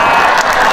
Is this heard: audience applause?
yes